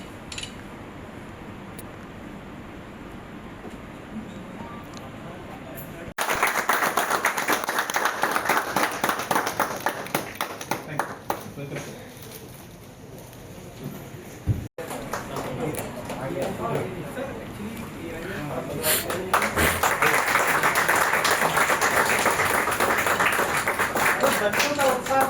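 Children at a school event clapping in long bursts of applause, loud and sustained, with a dip in the middle before rising again; crowd noise and voices mix in.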